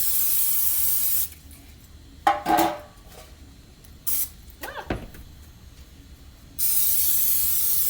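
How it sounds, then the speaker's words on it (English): Short bursts of Pam cooking spray hiss in quick succession onto loaf pans, close by, with a steady broadband hiss framing them at the start and end. "spray them with our handy dandy Pam so the bread doesn't stick to the pans"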